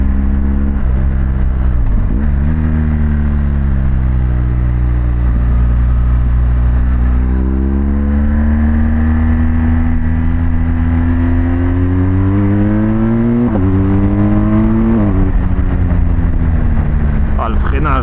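A BMW GS Adventure motorcycle fitted with an Akrapovič exhaust runs continuously close by, its engine note rising and falling through gear changes and throttle surges, with a voice speaking over it.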